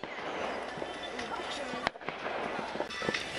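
Fireworks go off from around ten nearby houses, making a continuous stream of pops and crackles with one sharp, close bang partway through, while people talk.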